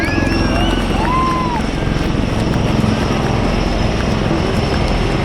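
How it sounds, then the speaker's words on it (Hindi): A military helicopter passes right to left over an Army Day parade, a loud continuous rotor and engine roar filling the whole clip, with crowd babble and faint speech beneath. "दाहिने से बाएं हेलीकॉप्टर की गूंज।"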